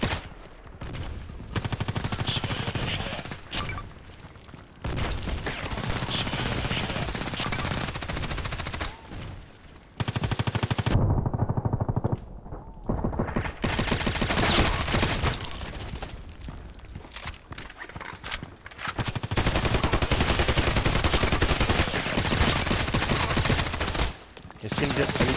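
Suppressed gunshots in the shooter game Contract Wars, bursts of muffled fire and loud action noise in long stretches broken by brief quiet gaps.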